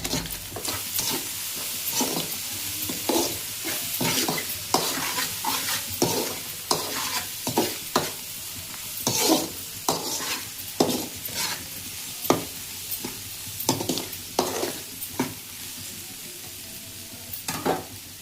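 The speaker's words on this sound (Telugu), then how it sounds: "తర్వాత పసుపు వేసి ఒకసారి కలుపుకోవాలి." Ginger garlic paste and turmeric frying in a pan while being stirred: a continuous close sizzle broken by frequent rhythmic scraping strokes of a spoon against the pan, with no talk.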